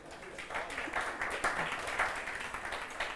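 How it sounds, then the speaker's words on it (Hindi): Students in a classroom clap together for classmates, a steady close round of applause of moderate loudness lasting a few seconds. "सब लोग ताली बजाओ इन बालकों के लिए"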